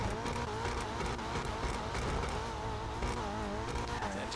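Annis 300R car engine in a video game, a continuous dense engine drone running steadily with a fluttering exhaust texture.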